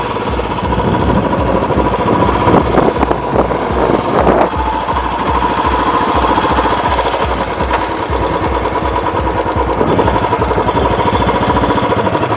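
Close, loud thumping from a Royal Enfield Classic BS6 motorcycle in gun metal grey on a test ride, the engine beating in a steady rapid rhythm with rising and falling throttle and constant wind and road noise.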